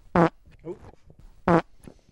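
Two short, loud farts a little over a second apart, with a faint murmur of a voice in between.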